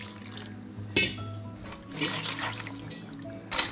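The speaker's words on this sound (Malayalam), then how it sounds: "ഇനി ചിക്കൻ വേവാൻ വേണ്ടി കുറച്ച് വെള്ളം ചേർത്ത് കൊടുക്കാം." Water poured into a pot of country chicken for cooking, a soft trickling splash near at hand, with a couple of sharp knocks of a vessel against the pot.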